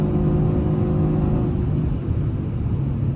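Mercedes-AMG GT R cruising at about 300 km/h on the autobahn, a steady loud cabin roar of engine drone, wind and road rumble with no break or shift, no voices.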